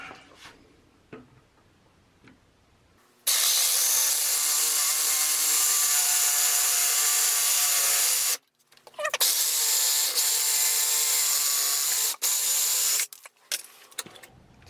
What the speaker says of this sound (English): We're gonna cut it right here, okay? Got my Sawzall ready.